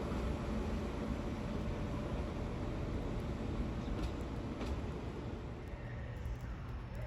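A London Northwestern Railway train at Crewe on the West Coast Main Line rumbles steadily and faintly throughout, a broad, low, continuous rolling noise with a few brief clicks and no voices.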